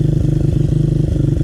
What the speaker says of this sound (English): I'm having to keep it revving